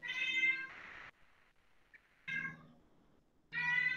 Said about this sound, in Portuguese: Fundo musical de Gato Chorão.